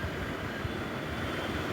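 Steady rumbling roar from inside a crowded early-morning commuter train in Mumbai, a continuous loud broadband drone with no talk.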